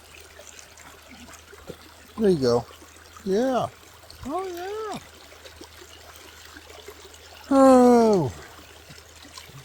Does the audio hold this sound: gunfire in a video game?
no